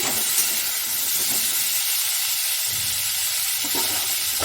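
Drumstick vegetables sizzling loudly in a pan while being stirred, a continuous bright hiss with occasional scraping knocks, close and alone.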